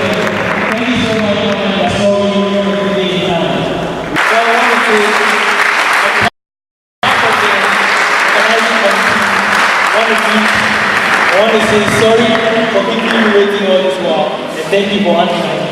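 Audience applause at a national core subjects quiz media launch in Ghana, loud sustained clapping from a large crowd filling the room with a brief cut in the middle, mixed with voices.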